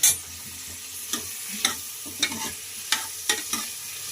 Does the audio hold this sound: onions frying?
yes